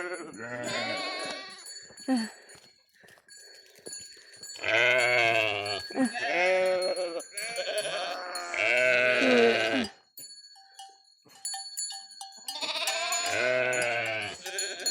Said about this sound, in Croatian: Evo, dragi, da vam pokažem svoje ovce.